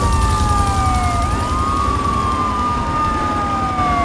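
Police car sirens wail in the video game GTA III: loud, continuous wailing tones from two pursuing cars overlap and sweep up and down, with a low rumble of engine and traffic beneath.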